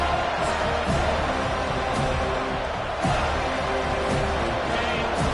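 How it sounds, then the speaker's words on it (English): A stadium crowd roars at a football game, a dense, steady wall of noise filling the whole clip, loud and close with faint rhythmic swells throughout. "This crowd, full throat, splitting the eardrums"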